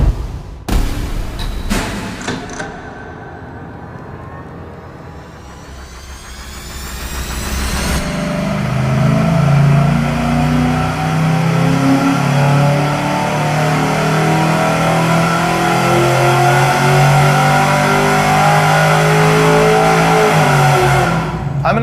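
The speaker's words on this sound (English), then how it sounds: "We're about to do our very first pull with the X pipe." A V8 engine on a dyno pulls through an X-pipe exhaust: a few sharp blips at first, then a loud, sustained wide-open roar climbing in pitch and holding near the top, close and alone without talk.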